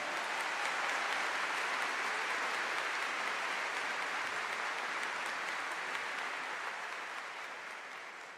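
A church congregation applauding at a worship service, a dense, sustained wash of clapping that holds steady, then slowly fades toward the end.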